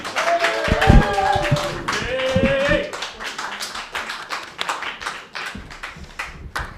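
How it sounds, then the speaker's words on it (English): A crowd at a live stand-up comedy open mic claps steadily for several seconds, loud at first and thinning slightly, with some voices and cheers mixed in. "A round of applause for Faye Pollett!"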